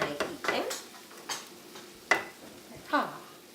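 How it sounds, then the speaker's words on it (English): Beef and rice filling in a pan, stirred and scraped with a utensil in a few separate strokes over a faint simmer, close and fairly quiet. "we're gonna let it simmer for about 10 minutes"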